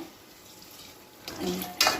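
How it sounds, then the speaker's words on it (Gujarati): Boiled dumpling water is poured into a pot of spice mix for a gram-flour dumpling curry, a short splashing pour that starts faint and rises in the last second, close and fairly loud. "એ પાણી રેડીને હવે પાણીને ઉકળવા દઈશું"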